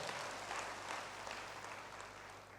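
Church congregation clapping together in praise to God during a sermon, a steady dense wash of applause filling the room for a few seconds with no voices over it.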